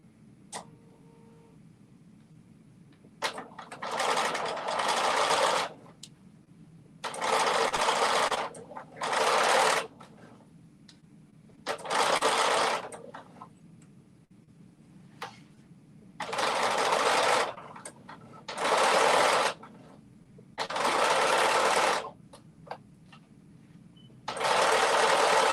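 A home sewing machine stitching around a dress armhole, running in repeated bursts of rapid, steady whirring and ticking, stopping and starting in short runs with quiet pauses between them.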